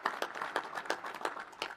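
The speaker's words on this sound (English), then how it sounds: "you can give him a big round of applause as well." Quick, uneven hand claps repeat throughout, like a small group applauding at close range, at a National Space Council meeting.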